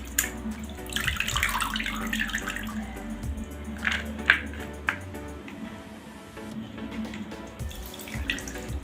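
Chopped drumstick (moringa) stems being washed by hand in a vessel of water, with soft sloshing and splashing and a few brighter drips and clinks coming in uneven bursts.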